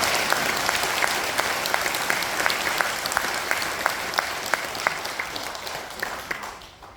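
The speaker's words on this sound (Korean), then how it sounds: "우리 그냥 앉은 자리에서 우리 박수로 한번" Seated audience at a documentary film premiere applauding, a full crowd of clapping with one louder hand beating a steady rhythm, fading toward the end.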